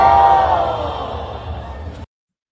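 A crowd cheers and shouts loudly in a single swell that fades slightly before cutting off abruptly.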